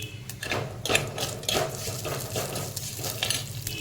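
Cumin seeds with slit red and green chillies frying in hot oil, giving a close crackling sizzle broken by quick scraping strokes and light metallic taps at an uneven rhythm.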